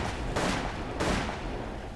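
Two loud, sharp Desert Eagle pistol shots crack about half a second apart in the Roblox game Edward the Man-Eating Train, each with a roaring, noisy decay.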